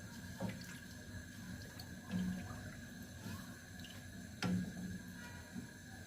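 Sugar syrup for baklava heats in a pot of water on the stove, with soft, quiet liquid swirling and a few light scrapes and knocks as it is stirred.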